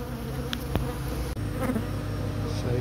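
Honey bees from a hive being relocated buzz steadily and close, a dense continuous hum with a few individual bees droning past.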